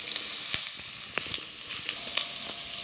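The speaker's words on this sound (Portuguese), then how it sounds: "nossa linguiça está fritando" Brazilian linguiça sausage frying in a pan for a stuffed pumpkin purée, giving a continuous close sizzle scattered with sharp crackles and pops of fat, with no voices.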